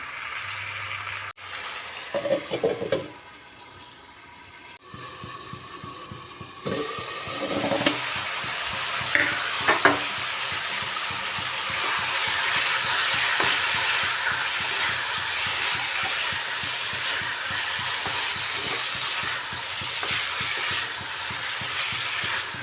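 Potatoes and cauliflower fry with spices in a pot for a cauliflower dalna with lentil badi. A thick, steady sizzle builds and then holds loud and close, with a few stirring scrapes early on and no voices.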